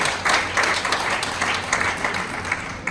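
An audience at a Special Olympics event claps loudly and continuously for the chief guest, a dense steady applause filling the room.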